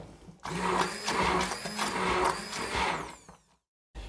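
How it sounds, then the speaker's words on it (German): A handheld immersion blender whirs steadily for about three seconds as it remixes a separated mixture into a smooth, even mass, then cuts off abruptly into silence. "Und vermische das noch mal mit dem Pürierstab."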